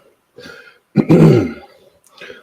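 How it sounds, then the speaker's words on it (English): A person clears their throat once, with a short lead-in sound followed by a loud, rough rasp and a brief softer trailing noise. "Let me clear my throat."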